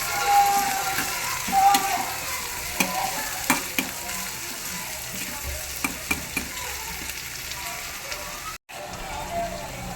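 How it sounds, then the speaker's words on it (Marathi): Tomatoes and onions sauté in a pan with a continuous frying sizzle. Scattered clicks and scrapes from stirring sit over it, and a voice is faintly present at times. "टोमॅटो पण चांगला परतून घेऊया"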